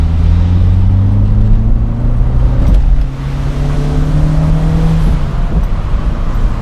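A Peugeot 205 CTi convertible's engine pulls at low revs while driving, giving a loud, steady, slightly uneven drone with a gently shifting pitch. No one speaks.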